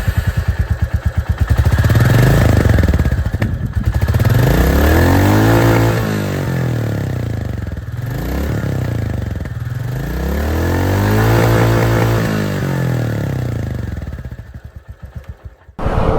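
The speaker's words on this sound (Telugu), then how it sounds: "2024 రాయల్ ఎన్ఫీల్డ్ క్లాసిక్ 350 వెహికల్ అయితే ఇప్పుడు రైడ్ చేద్దాము." A 2024 Royal Enfield Classic 350 motorcycle runs with a loud, close single-cylinder thump, rising and falling through several revs and gear changes as it rides off, no talking over it.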